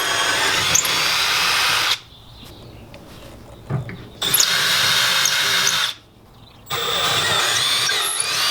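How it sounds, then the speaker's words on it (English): A power drill whirs loudly in two long bursts while drilling holes for an overland drawer system with a sleeping platform, with a brief quieter pause between runs and another burst at the end. "Alright, so I finished drilling the holes."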